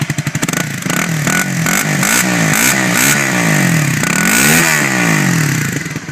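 Honda CBR250R motorcycle fitted with a custom exhaust revs up and down loudly and close by, several rising and falling throttle blips over a steady engine note, with no talking.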